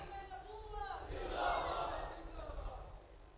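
Large crowd at an Imam Hussain religious conference raising slogans in unison, a swelling mass of voices that builds to a loud peak mid-clip and then eases, distant and reverberant.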